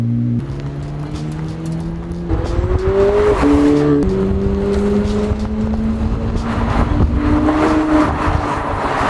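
A McLaren Senna GTR track car under way, its engine roaring loud and close with rising and falling pitch as it accelerates through gears, airbox intake noise prominent, with no talk.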